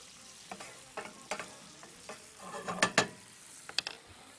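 Onions fry quietly in a pan, with soft crackling and a few sharp clicks and scrapes from stirring, close by and without talk.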